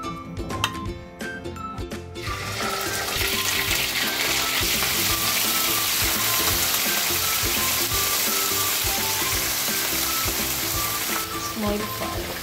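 Chicken hits hot oil in a pan and sizzles loudly and continuously at close range, a dense steady frying hiss after a few quieter moments of clinks at the start.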